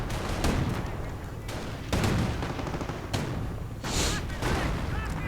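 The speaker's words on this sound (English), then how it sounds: "And a decoy artillery barrage" A Company of Heroes artillery barrage pounds in a series of booming impacts and crackling blasts every second or so, with scattered gunfire between them.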